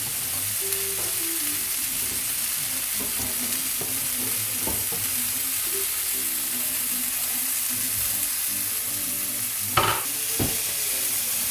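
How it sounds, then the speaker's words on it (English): Food fries in a pan with a continuous loud sizzle and hiss, punctuated now and then by utensil scrapes and knocks as it's stirred. "we continue with just tossing it around, just making sure that it's frying nice"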